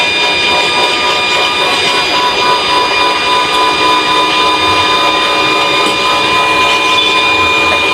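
A small cotton candy machine motor spins steadily on adaptor power, giving a smooth, continuous whirring hum with a bright tonal whine that holds even for the whole stretch.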